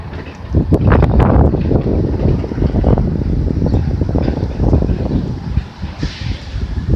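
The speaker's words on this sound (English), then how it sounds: "it's gonna be really windy down here" Strong wind buffets the microphone throughout, a steady low roar with gusty surges and no voices.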